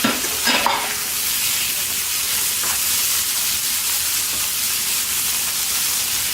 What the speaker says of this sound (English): We're just lightly frying these things